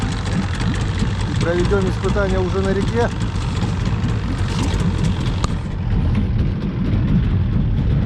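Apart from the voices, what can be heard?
old Vikhr outboard boat motor running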